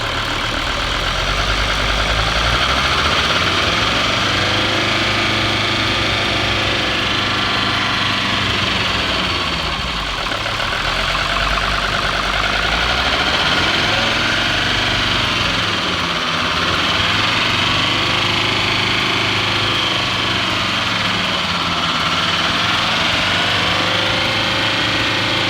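A 1977 Mercedes-Benz diesel engine runs loud and close, rising and falling through several revs over a rough, clattering idle during a fuel purge and filter change.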